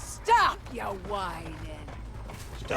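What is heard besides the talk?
No everyday noise stands out behind the speech.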